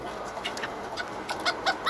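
A hen clucks softly in short, irregular bursts while eating, close by, with faint pecking sounds and a low background hum.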